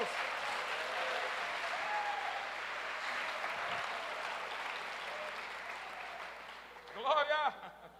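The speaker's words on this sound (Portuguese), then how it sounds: "Uma salva de palmas ao Senhor Jesus" A church congregation applauds steadily in a large hall, with dense clapping throughout. Near the end a voice rises over the tapering applause.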